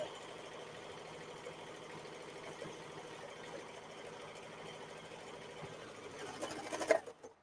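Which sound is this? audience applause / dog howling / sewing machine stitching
sewing machine stitching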